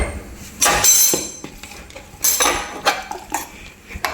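Prawns and small shallots are heated in oil in a pan. Metal utensils clink and clatter against the cookware in a few sharp, close bursts, with quieter knocks between them.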